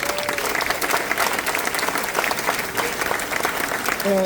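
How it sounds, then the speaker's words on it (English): Audience applause at a Pawtucket civic event for local, state and federal leaders, a dense, steady round of clapping from a crowd, loud and even, with brief voice traces near the end. "Give them a round of applause, please."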